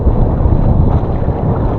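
Strong, steady storm wind roars across the microphone after heavy rain and lightning, a continuous low rumble, loud and unbroken throughout.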